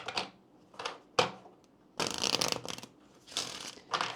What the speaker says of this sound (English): Let's take a look at the Kipper cards for you here,